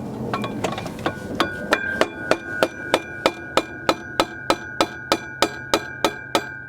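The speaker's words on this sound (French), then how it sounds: "Tu veux mettre des petits coups de marteau ici pour voir si ça sort?" Small hammer taps on a kart cross part during a repair, a steady run of about fifteen sharp metallic strikes with a ringing tone, evenly spaced and close, louder after a few quicker, softer knocks at the start.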